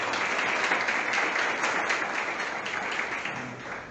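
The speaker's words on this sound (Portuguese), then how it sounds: "uma salva de palmas" Sustained applause from an audience at an Umbanda gathering in São Gonçalo, a dense, steady wash of clapping that stays loud throughout before easing slightly at the end.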